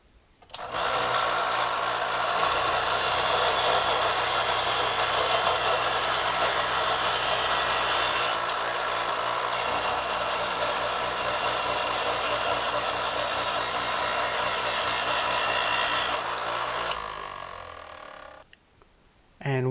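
A Trizor XV electric knife sharpener honing a knife edge gives a loud, steady motorized whir with a gritty grinding tone. It runs nearly unbroken for about fifteen seconds, then winds down and stops.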